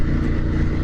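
A Ducati Monster motorcycle engine, a 2020 naked bike, idles with a steady, dense low rumble throughout a brief moment, loud and close with no voices over it.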